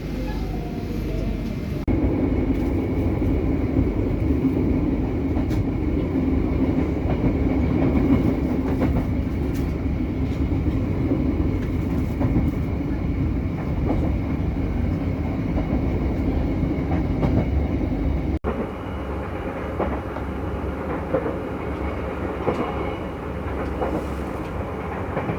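Onboard the Brawijaya, an old long-distance executive passenger train from Malang to Gambir: a constant loud rolling rumble with faint clatter, shifting in tone partway through.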